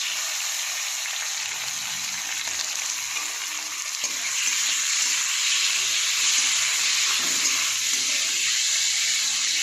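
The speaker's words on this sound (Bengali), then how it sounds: "চিংড়ি মাছটা একটু ভাজা ভাজা করে নেবো।" Prawns dropped into a pan of lightly browned onions fry with a loud, steady, dense sizzle that holds for the whole stretch, close by and with no voices.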